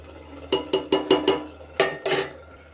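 Pan of paneer dish on a gas stove as its water boils off: a run of sharp metallic clanks and scrapes, several in quick rhythm followed by two more, loud and close, with no talk.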